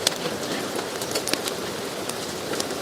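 Rain effect played during a school stage production of Our Town, a soft continuous patter with scattered sharper drops, fairly quiet and steady with no voices.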